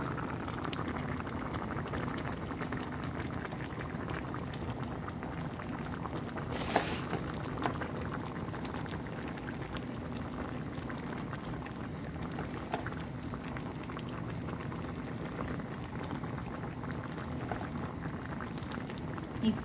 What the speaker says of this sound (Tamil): இப்போ பார்த்திங்கன்னா கறி கொதிச்சிட்ருக்குது